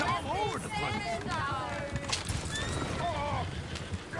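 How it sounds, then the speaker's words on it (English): Horses in the Red Dead video game whinny and neigh repeatedly over clattering hooves, with shouting voices mixed into the chaotic scene. "The horses! Damn horses!"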